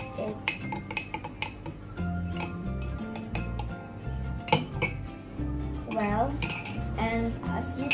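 A spoon clinks and taps against a glass while chili and oil are mixed, giving irregular close metallic ticks and scrapes, with a faint voice murmuring in the background.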